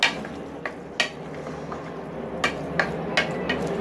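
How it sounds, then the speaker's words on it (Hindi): Minced keema being stirred in a pan, a spoon scraping and clinking against the metal in irregular taps over a low cooking hiss, fairly quiet and close. "डाल दिया हमने कीमा, इसको अच्छे से मिक्स कर देंगे"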